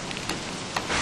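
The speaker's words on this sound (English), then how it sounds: "It's actually raining pretty hard." Heavy rain in the video game Don't Starve, a dense, loud, continuous hiss of downpour that fills the short moment, with no speech.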